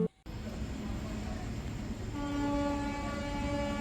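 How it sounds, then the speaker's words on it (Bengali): A passenger train pulling into a station platform, a steady low rumbling roll close by, joined later by a sustained tonal horn or squealing whine, with voices murmuring in the background. "যথাসময়ে ট্রেন চলে এলো প্ল্যাটফর্মে"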